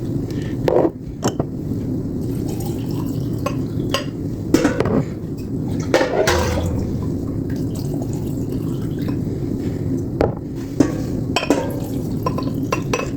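Glass jars of freshly picked huckleberries being handled for water-bath canning, with scattered clinks, knocks and faint water sounds against a steady background hum, no talking.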